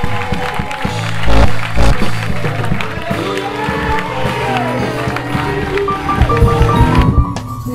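A church congregation claps and cheers loudly in a large, echoing hall for several seconds, with crowd voices and a few louder shouts rising above the applause.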